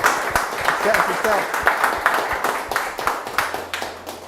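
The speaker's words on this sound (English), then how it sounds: "a big round of applause for these guys" A small audience at a Bitcoin podcast event in Curaçao claps in scattered, uneven bursts close by, with voices talking over the applause.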